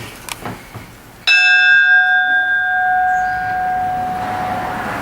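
A brass bell in a railroad museum struck once after a quiet moment, giving a loud, bright clang that rings on with a long, slowly fading metallic tone for several seconds.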